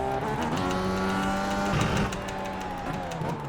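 A race car engine in the iRacing simulator revs hard and steadily, with pitch shifts as the driver works the transmission and tries to over-rev it, loud and continuous throughout.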